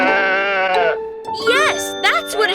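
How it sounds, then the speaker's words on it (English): Two or three bleats from a sheep in a children's farm-animal sound quiz, a loud close wavering cry followed by shorter quavering calls, each a second or less, with a voice briefly heard between them. "Yes, that's what a sheep makes."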